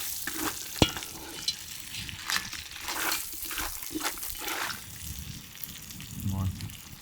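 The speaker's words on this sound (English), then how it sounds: "now that we've had a nice little saute" Spices sautéing for Jamaican curry crabs outdoors on a beach, a steady sizzle and stir of frying with liquid bubbling, moderately loud, a couple of sharp clanks of a utensil against the pot and brief talk mixed in.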